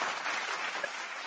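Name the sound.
applause sound effect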